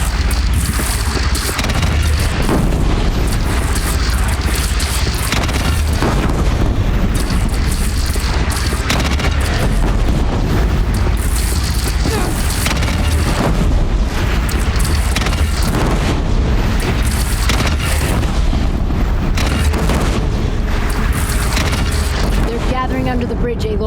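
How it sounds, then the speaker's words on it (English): Cannon fire rings out in Horizon Zero Dawn during a fight with a bandit clan at a bridge. Heavy booms and crashes pile up in a loud, unbroken din of battle noise, with voices mixed in. "They only have one cannon!"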